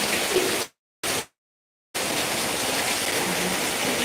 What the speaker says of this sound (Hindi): मस्त एकदम झकास बारिश हो रही है